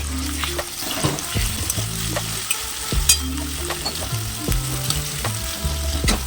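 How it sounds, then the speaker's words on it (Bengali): Onion frying in hot oil in a wok, a continuous sizzle with repeated scraping strokes of a spatula against the pan, close and busy, with low tonal hum in the background. "একটা কড়াইতে ভালো করে তেল গরম করে নিয়ে তাতে পেঁয়াজটিকে আগে ভেজে নেব"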